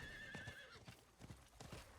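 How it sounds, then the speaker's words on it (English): Quiet, irregular hoof clops of a horse on the ground in Diablo IV, with a brief whinny at the start, faint and close. "Let me go back to my horse."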